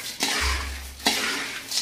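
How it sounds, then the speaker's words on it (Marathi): Two quick scraping strokes of a spoon through murmura chivda puffed rice in a pan over low heat, close and crisp, with a dry rustle between them. "आपल्याला हे हलवून घ्यायचं. असं सर्व मिक्स करायचं."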